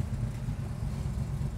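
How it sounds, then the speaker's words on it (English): A 1966 Chevrolet Chevelle downshifts and swings through a U-turn, its engine giving a deep, steady low rumble that sits close and fairly loud with slight surges. "Downshift there and we'll do a U-ey here."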